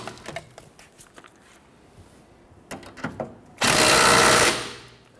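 A 15mm tool tightens a rear sway bar link nut on a 1992-1996 Toyota Camry: scattered light clanks and clicks, then one loud, dense whirring burst lasting about a second that stops abruptly.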